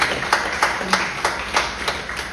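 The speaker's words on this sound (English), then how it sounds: "Give them a round of applause." A crowd applauds a live band in a honky-tonk bar on Lower Broadway, Nashville, a dense wash of hand claps with a loosely pulsing rhythm, fairly loud and close.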